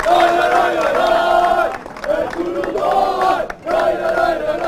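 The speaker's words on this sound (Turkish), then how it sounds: "Trabzonspor'un başarısı için yönetimi bir daha destek ve alkışa davet ediyorum." A large crowd roars and chants in unison for Trabzonspor at the club's 56th anniversary celebration, loud, sustained voices swelling in waves.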